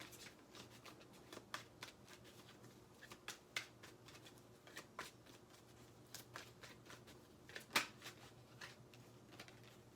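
Tarot cards shuffled by hand in a quiet room: a steady run of soft, papery riffles and flicks, with one sharper card snap near the end, close and fairly faint over a low steady hum.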